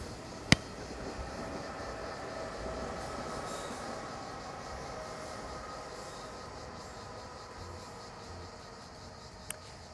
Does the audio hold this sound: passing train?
yes